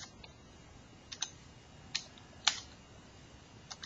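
Computer keyboard keys are pressed for a shortcut while working in Excel, a few soft, sparse clicks in a quiet room, no talk.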